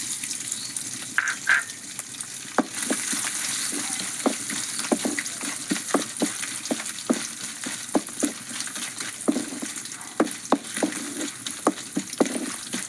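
A small slice of coconut frying in hot oil, a constant close-up sizzle and crackle with scattered pops and light stirring taps throughout.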